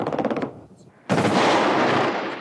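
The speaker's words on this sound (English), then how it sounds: "Iraqi anti-aircraft positions began firing repeated barrages" Iraqi anti-aircraft guns fire repeated barrages over a city at war, a loud, dense burst of rapid firing that follows a moment of narrating voice.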